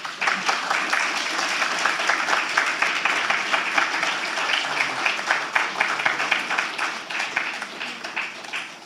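A lecture audience applauding Dr. Carol Hordatt Gentles, steady, dense clapping from a sizeable crowd that holds at an even level throughout.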